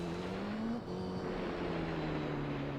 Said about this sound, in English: It sounds like there's really a car in front of you tearing up the gravel there and such.